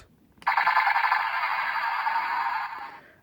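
A Transformers Cybertron Optimus Prime toy plays an electronic sound effect when its blue button is pressed, a single bright, buzzing synthetic tone that starts abruptly, holds steady for about two seconds, then fades out.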